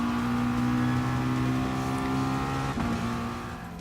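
Race cars in GT Sport droning steadily at high revs, a continuous close engine tone that dips briefly near the end and then fades slightly.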